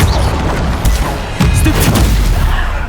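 A Bombarda explosion spell in Hogwarts Legacy combat lands as a loud, heavy boom within a dense wash of blasts and impacts.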